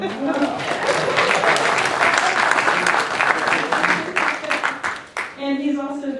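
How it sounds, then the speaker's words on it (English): A symposium audience breaks into dense, steady applause lasting several seconds, close and full, before the clapping thins and a speaker's voice resumes at the end. "I think that deserves a round of applause."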